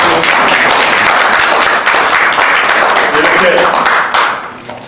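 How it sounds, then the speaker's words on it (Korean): Loud, sustained applause from an audience at an organization's general meeting, dense clapping filling the room for several seconds before tapering off, with a voice speaking briefly over it. "큰 박수."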